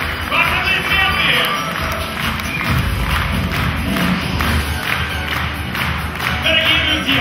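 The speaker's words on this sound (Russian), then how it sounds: "давайте еще раз поаплодируем нашим волшебникам" A concert audience at an Old New Year holiday show in a Palace of Trade Unions hall applauds loudly and steadily for several seconds, dense clapping mixed with crowd murmur and a few dull thuds.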